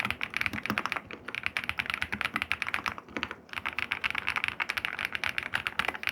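Typing on a mechanical keyboard priced under 6,000 rupees, a rapid continuous stream of crisp clicky keystrokes with a brief pause near the middle, close and steady, with no talking.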